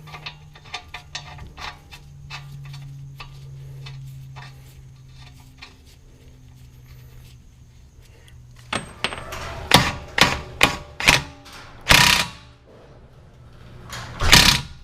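Pneumatic impact gun on a Honda Civic rear axle nut, rated around 800 foot-pounds, fires several loud, sharp rattling bursts close by in quick succession, preceded by quieter tapping and a low hum.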